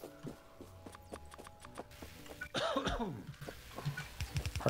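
A single cough sounds midway, close and fairly loud, set among light clattering knocks and scattered clicks, with no talking.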